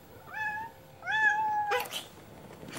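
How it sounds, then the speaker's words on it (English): A cat meows twice indoors, two clear drawn-out meows close by, followed by a brief rustling noise. "Is that a kitty cat?"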